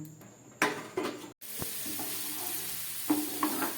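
Onion sizzles steadily in a hot pan, with occasional scraping and stirring clatters from a utensil.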